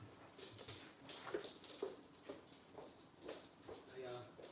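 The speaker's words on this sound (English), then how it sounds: "What are you barking at, Mickey?" A pet dog barks a few times indoors, sharp yelps scattered across a few seconds alongside whimpering and household clatter.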